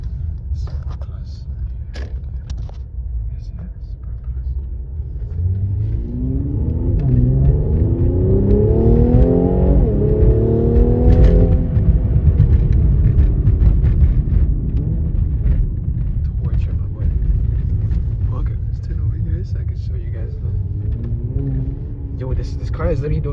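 A Mercedes-AMG car in Sport Plus mode accelerates hard, its engine note rising in a climbing drone that peaks midway and then falls back into a loud, deep rumble, with a voice talking over parts of it.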